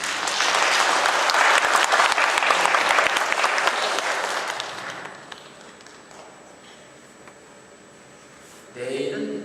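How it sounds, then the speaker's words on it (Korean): A church congregation welcomes a newly arrived priest with hearty applause that swells for several seconds and then fades out into near quiet, before a voice resumes speaking at the end. "우리 영성 사시면서 기쁘고 행복하게 사실 수 있도록 박수 한번 해주시기 바랍니다."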